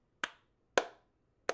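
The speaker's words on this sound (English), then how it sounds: "slow clap, everyone." Three slow, deliberate hand claps, crisp and close, spaced about half a second apart with quiet gaps between them.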